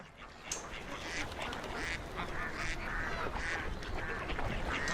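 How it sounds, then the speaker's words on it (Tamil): Duck-like quacks and honking bird calls sound through a song, steady and fairly dense for several seconds with no one talking. "இந்த பறவைகள் விலங்குகள் சவுண்ட் வந்துடுது எல்லாத்துலேயும்."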